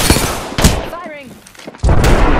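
Gunfire in Apex Legends, loud booming shots at the start and end with a quieter stretch between, and a voice speaking over the gap in the middle.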